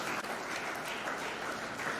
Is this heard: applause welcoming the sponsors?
yes